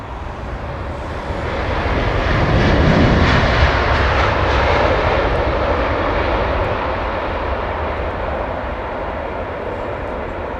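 Airliner jet engines roar at London Heathrow Airport, a loud, broad, continuous rumble that swells to a peak and then eases slightly, sounding close, with no voices heard.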